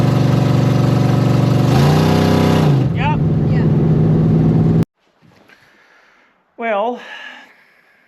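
A truck engine with a damaged exhaust revs loud and close for several seconds, then cuts off abruptly, leaving brief spoken voices and a short burst of noise.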